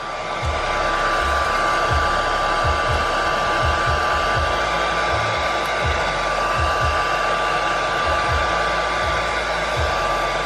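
A heat gun warms vinyl wrap on a MINI light surround with a loud, continuous blowing whine and a few soft low knocks underneath, no voices.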